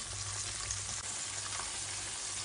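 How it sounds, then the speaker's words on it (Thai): Flour-coated fermented fish (pla som) frying in oil over low heat, a steady dense sizzle and crackle that runs unbroken throughout, loud and close with no talking. "ทอดปลาส้มเราต้องใจเย็นนะคะ"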